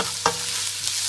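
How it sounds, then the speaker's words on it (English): Brown onions fry in olive oil in a pan, giving a soft steady sizzle with a brief scraping clatter early on and a fainter knock near the end, close and without speech. "Next goes the onions, some brown onions."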